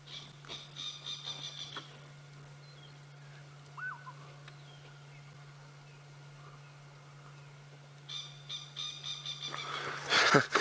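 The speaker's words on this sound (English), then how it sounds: "A very loud call for such a little bird." Faint chirps and calls from a small bird heard on a sunrise safari drive come in bursts at the start and end, over a low steady hum with quiet stretches between.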